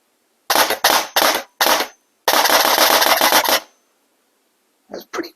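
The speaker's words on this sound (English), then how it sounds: "And then on full auto, I don't recommend dry firing your gun, but that was a lot of fun." An M16A1 rifle dry fired on full auto gives a run of sharp mechanical clacks: four short bursts, then a longer rattling burst of about a second, and two faint clicks after a pause, close and loud, with no talk.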